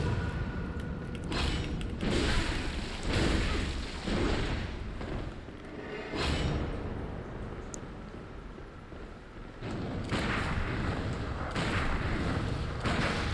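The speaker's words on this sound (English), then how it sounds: "Maybe if I just keep spamming it with bullets." Gunfire and heavy combat booms from the game Bloodborne come in repeated bursts of thuds and blasts, loud and layered, with brief lulls between volleys.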